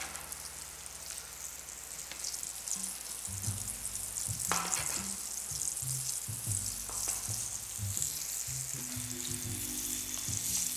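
Veal frying in a pan, a steady close sizzle and crackle with scattered pops and light scraping, running without pause under no talk.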